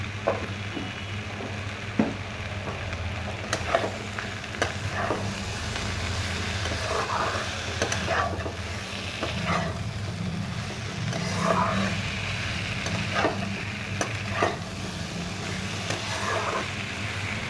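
Boiled potatoes sauté in a pan: a continuous, moderate frying sizzle carries regular spatula scrapes and taps against the pan at an unhurried pace, with no talking.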